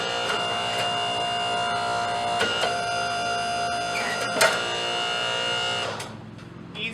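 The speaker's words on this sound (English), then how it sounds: "This one happens to be a 35-ton press." A 35-ton forging press in a blacksmith shop runs with a steady mechanical hum and buzz, a few sharp clanks breaking through before the motor winds down near the end.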